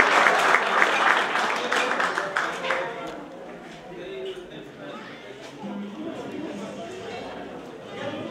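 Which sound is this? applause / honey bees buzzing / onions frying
applause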